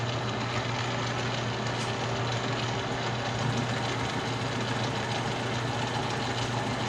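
A manually operated cutting machine runs with a steady mechanical hum and faint rhythmic chatter, unbroken throughout and with no voices.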